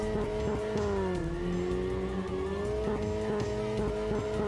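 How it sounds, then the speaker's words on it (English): A powerful car engine roars and revs steadily in an underground space in the Steins;Gate 0 video game, a continuous loud droning hum with shifting pitch and no pause, without talk. "The sound of a powerful engine shook the underground air."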